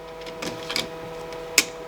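An Epson C6500 ColorWorks label printer whirs steadily as it initializes, with a few soft mechanical clicks and one sharp clack near the end, close and with no talking.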